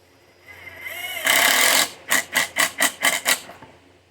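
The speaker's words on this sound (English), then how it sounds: "Now I'm going to take some 1/2-inch screws and just pop those right in." A power driver sends half-inch screws into a wooden workbench organizer: one sustained whir, then a run of six short rhythmic bursts, close and fairly loud.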